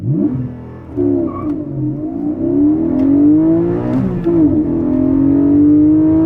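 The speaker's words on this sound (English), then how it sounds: "I'll clutch in, pin the throttle, build up the revs, and then get off the clutch." A Porsche 718 Cayman GTS 4.0 revs hard on launch, then launches and accelerates steadily to 60 mph, the engine pitch climbing through gear changes, loud and close throughout.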